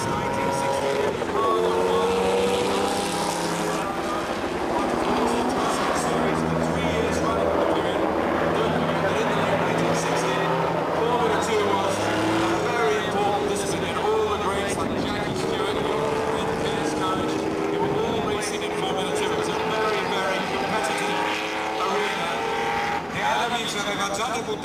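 A 1968 Ferrari 166 Formula 2 race car driving at a Ferrari demonstration event, its engine droning steadily with rising and falling revs throughout, while a commentator talks over it.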